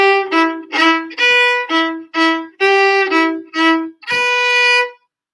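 Solo fiddle plays a short exercise tune: about nine bowed notes in a steady, even rhythm, each clearly separated, ending on a longer held note, close and clear with no talking.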